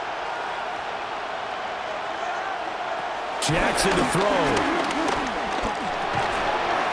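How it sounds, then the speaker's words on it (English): Stadium crowd roaring at Arrowhead in the Madden NFL 26 football video game, a steady loud wash of noise that swells louder midway, with a commentator talking over it. "The Arrowhead crowd in full roar"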